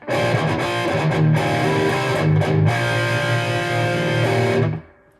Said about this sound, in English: Let's try it with the distortion channel engaged.